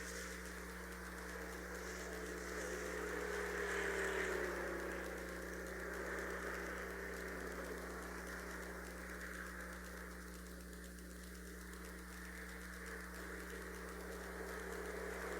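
Race car engines in a video game drone faintly and evenly as the cars roll out on a warm-up lap at the Pocono triangle track, a steady hum with only slight swells in pitch.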